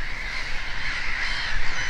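A bird in Russia gives loud, harsh, cawing calls that repeat without a break over a constant, busy outdoor background, with no voices.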